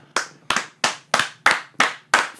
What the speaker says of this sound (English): Let's get a round of applause from our brother Reese right now